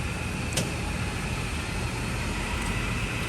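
A 1985 Hardinge HLV-H super precision tool room lathe spindle spins at 1,000 RPM in high range, giving a steady broadband whirring hum with a faint constant whine and a couple of brief clicks.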